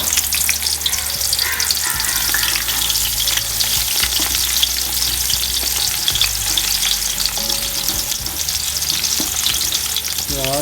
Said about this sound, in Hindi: अब प्याज को डाल देंगे हम घी के अंदर